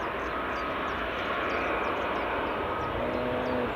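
A JetBlue airliner from Halifax at Edinburgh Airport's runway 24 makes a constant jet engine drone with a faint whine on top, steady and moderately distant for the whole span, with no one talking.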